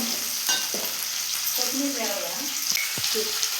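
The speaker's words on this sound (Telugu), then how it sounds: "ఇప్పుడు టమాటో ముక్కలు వేస్తున్నాం" Onions and tomato pieces frying in a pan for gongura chutney, with a steady close sizzle and occasional scraping, stirring clatters throughout.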